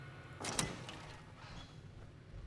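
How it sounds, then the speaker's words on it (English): An exhibit door opening in Fallout 3: a single short mechanical clunk and slide, fairly quiet, over a low hum with no talking. "And we could also open the exhibit door."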